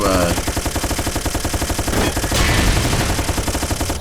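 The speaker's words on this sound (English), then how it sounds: "Nukes. Machine gun." Rapid machine gun fire from the video game Judgment Day rattles loudly and continuously in tight bursts, close and dominant, with a brief louder flurry midway.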